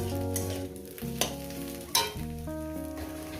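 Fenugreek greens frying in a pan for a fish bhorta, a steady close sizzle with stirring scrapes and a few sharp utensil knocks, no talking.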